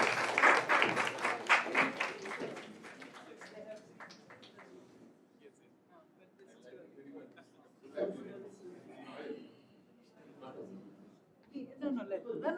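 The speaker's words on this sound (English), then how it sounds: "So give one more round of applause." Conference audience applauding at a national IP education event at a law university, a dense burst of clapping in the first few seconds that thins out, followed by scattered talk and murmuring from the room.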